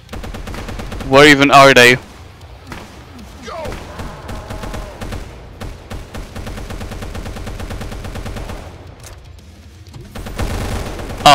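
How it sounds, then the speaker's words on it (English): Gunfire in the video game Brutal DOOM played co-op, with loud bursts of rapid shooting at the start and end and scattered shots in between, under players talking over voice chat. "Why is someone shooting?"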